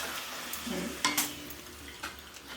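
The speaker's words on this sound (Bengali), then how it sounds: "ঘরে পাপড় ভাজা হচ্ছে" Papad frying in hot oil at home, a quiet sizzle with a couple of sharp crackles and light utensil clatter over a short stretch, no speech.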